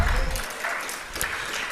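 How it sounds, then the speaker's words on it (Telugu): Church congregation clapping in praise of God during a sermon, a faint, short patter of applause that fades quickly into scattered claps, heard from a distance. "చప్పట్లు కొట్టి దేవుని స్తుతిద్దామా?"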